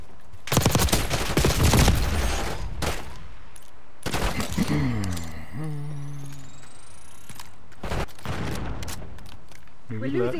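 Call of Duty Black Ops 6 beta multiplayer gunfire, with bursts of rapid automatic shots and scattered single cracks mixed with weapon-handling clicks, while players talk over the action.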